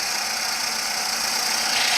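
A car engine idles steadily nearby, a loud, even mechanical hum with a faint knocking texture that holds unchanged for two seconds, with no voices.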